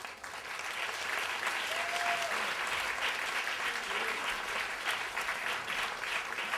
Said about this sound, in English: Big round of applause for Alyssa.